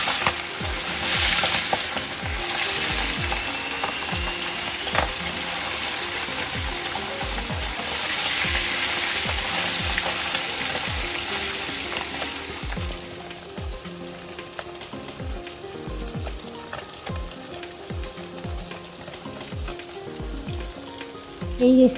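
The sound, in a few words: pabda fish frying in hot oil in a frying pan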